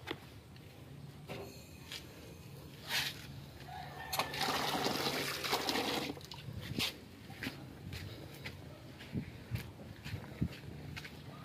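Water runs briefly from a newly added faucet on a PE compression-fitting pipe during a leak test, a soft hissing gush lasting a couple of seconds amid scattered clicks and handling noises.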